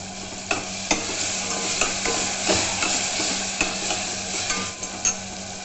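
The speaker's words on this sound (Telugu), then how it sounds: "రైస్ వేసి బాగా కలిపేసాను." Cooked rice for pulihora is stirred into a hot pan with lemon juice and salt, a steady gentle sizzle broken by regular scraping strokes of the spoon, close and without talk.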